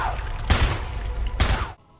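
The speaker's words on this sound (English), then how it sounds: "it's the sound of her chains that you hear in the trailer as well" Chains rattling around Lisa Trevor in a Resident Evil 9 trailer, two loud metallic clanking bursts about a second apart over a low rumbling game ambience, ending abruptly.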